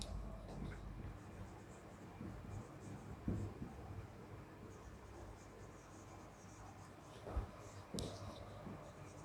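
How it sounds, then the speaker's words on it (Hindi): Chalk or marker writing on a board in a chemistry lesson on metals, faint scratchy strokes with a few sharp taps against a quiet room hiss and occasional soft speech. "पहले हम वर्ड फॉर्म में लिख देते हैं।"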